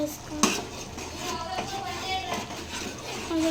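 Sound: lid being put on a cooking pot

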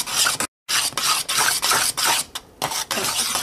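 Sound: mixing chopped dry fruit and figs into a dough

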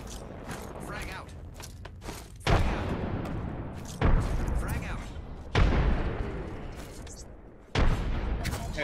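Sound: frag grenade explosion in a video game

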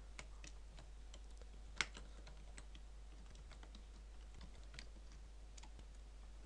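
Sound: typing on a computer keyboard

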